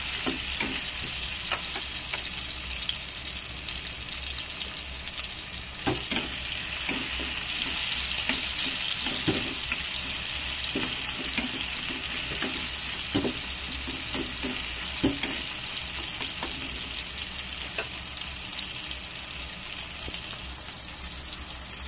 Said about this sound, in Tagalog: Tayo lang natin na mag-golden brown ang sibuyas